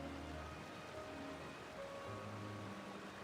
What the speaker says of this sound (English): Love rain.